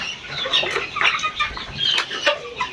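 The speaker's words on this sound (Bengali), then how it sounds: "দেখেন এখানে মুরগি আছে" Chickens on a small local poultry farm cluck close by in a steady, overlapping chorus, with sharp higher calls rising every second or so and no talking.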